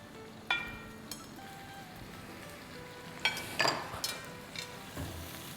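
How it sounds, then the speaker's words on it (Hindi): Garlic sautéing in a pan gives a quiet, low sizzle throughout, with a few close clinks and scrapes of a utensil. "लहसुन सौटे होते हुए 30 सेकंड हो गए हैं।"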